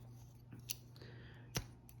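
Spring-loaded scissors on a Gordon multitool from Harbor Freight, handled close to the mic, giving two short sharp metallic clicks over a steady low hum.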